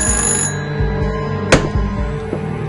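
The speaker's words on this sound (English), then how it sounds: "Why is there a phone ringing?" A telephone rings inside the video game Flicker, a steady electronic ring repeating over periodic dull thumps and background game sounds, with no talking.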